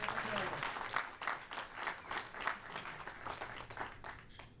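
An audience at a venture capital panel on AI applauds in a moderate, rhythmic patter of clapping that lasts a few seconds and slowly thins out.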